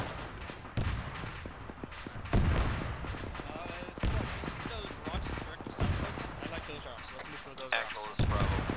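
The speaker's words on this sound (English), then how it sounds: "that's enemy fire from our southeast" Enemy gunfire in the military shooter ARMA 3, a steady crackle of shots from several directions with heavier booming reports now and then. Players talk over the shooting throughout.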